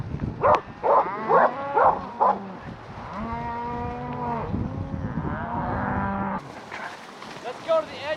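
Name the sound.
cattle mooing on a high country cattle drive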